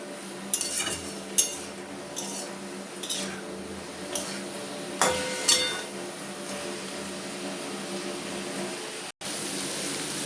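Silver carp with ginger paste, salt, turmeric and cumin powder is stir-fried in a pan: a quiet low sizzle with intermittent spatula scrapes and clinks against the metal, then a brief cut.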